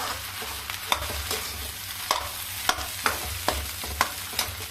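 A spiced chole mixture with ground coriander, cumin and black pepper fries in a pan, stirred with a steady series of sharp scraping strokes over a continuous low sizzle, no talking.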